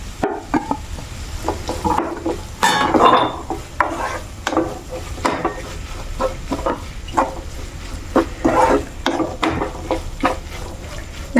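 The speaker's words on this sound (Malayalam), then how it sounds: "ഇത് നല്ലപോലെ ഇളക്കി ചേർത്ത് കൊടുക്കണം" Soya bean curry being stirred in a cooking pot, a spoon scraping and clinking against the pot in repeated close strokes over a soft sizzle, with no talk.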